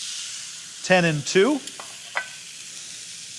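A big, thick steak sizzles on preheated, oiled grill bars with a constant close hiss throughout. A voice speaks briefly over it.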